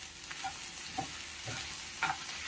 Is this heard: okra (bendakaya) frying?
yes